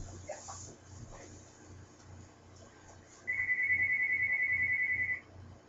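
A telephone rings with one sustained electronic trill lasting about two seconds, following a stretch of quiet room noise and faint low thumps.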